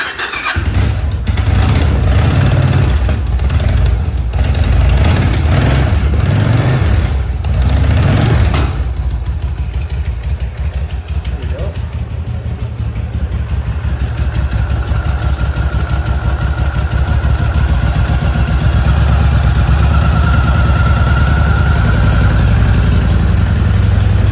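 Yamaha V Star 1100 motorcycle engine idling after a spark plug change, loud and close throughout, with an uneven start before settling into a steady low rumble, no talking.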